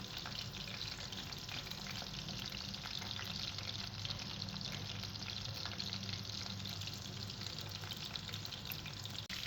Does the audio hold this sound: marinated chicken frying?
yes